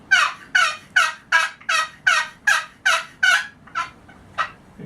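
A hand-operated turkey call produces about ten loud, raspy yelps in a steady rhythm, close and alone, imitating a turkey.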